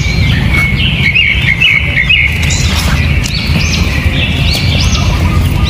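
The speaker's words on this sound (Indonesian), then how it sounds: "ternyata Cahyo melihat seekor burung terbang melintas di depannya" A bird chirps in short repeated high tweets as it flies past, heard over a loud, steady rumbling outdoor noise that persists throughout.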